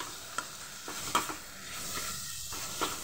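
Minced chicken frying in a pan as it is stirred and mixed, a steady close sizzle and hiss with a few soft scraping strokes and occasional spoon taps.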